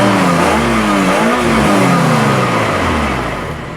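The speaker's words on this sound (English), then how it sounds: "very strong, raspy engine note" Peugeot 306 GTI-6 engine revving close by, a loud, raspy, metallic exhaust note rising and falling in pitch without a break.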